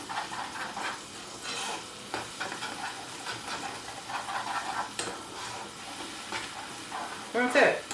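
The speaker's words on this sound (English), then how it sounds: "Just keep mixing it and stirring it all together." Flour is stirred into gravy in a pot with a utensil, giving continuous scraping, swishing and soft bubbling over a faint hiss, with a louder clattering stroke near the end.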